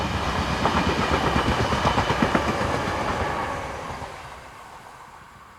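A local passenger train on the Valladolid to Gijón line in Spain passes close by, its wheels beating a steady clickety-clack rhythm that peaks mid-pass and then fades as the carriages move away.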